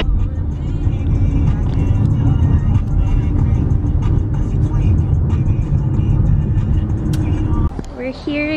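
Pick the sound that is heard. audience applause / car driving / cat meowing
car driving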